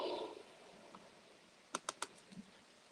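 Typing on a computer keyboard: a short burst of five or six crisp key clicks, fairly quiet and close, in an otherwise still room with no speech.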